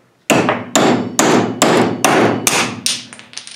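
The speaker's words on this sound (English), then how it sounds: "So it looks like when you sand Richlite to 80 grit and hit it with a hammer, it wants to stay." Repeated hammer blows on a super-glued joint in Richlite, a sanded paper-composite sheet, about seven sharp loud strikes at a steady rhythm close by, each ringing briefly, with no talk.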